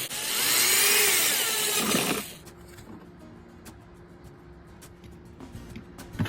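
A handheld power drill runs loudly and continuously for about two seconds, boring a hole through boxcar metal, then cuts off to quiet handling noises and faint clicks.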